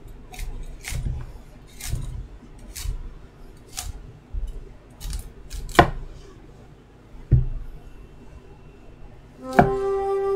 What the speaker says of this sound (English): Go back to chopping veggies.